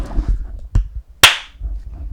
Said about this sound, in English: Nice, solid clap, dude.